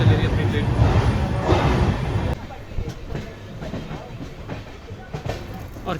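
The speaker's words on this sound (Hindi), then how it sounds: "और क्या ही ज़बरदस्त कर्व लेके अपनी ट्रेन निकल रही है रेणुगुंटा जंक्शन से" An Amrit Bharat Express train pulls out of Renigunta Junction on a curve, its steady rolling rumble and rail clatter loud at first, then easing into quieter, intermittent clicks of the wheels, with a voice talking over it.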